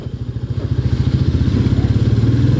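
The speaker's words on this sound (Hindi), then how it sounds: "लो एंड टॉर्क देखो बाइक का।" Royal Enfield Meteor 350 motorcycle engine thumping at low revs, a loud, close, rapid and even single-cylinder beat that gradually gains strength as it pulls, with no voices.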